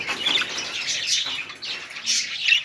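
Chirping from a group of eleven parakeets kept at a breeding aviary, birds carrying the German fallow gene: a busy, continuous chatter of high tweets and calls, fairly close and steady, with no voices.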